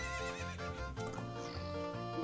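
Epona the horse whinnies loudly in the Zelda Master Quest video game, a bright, stepped neigh that lasts about two seconds and sounds alone with no talk over it.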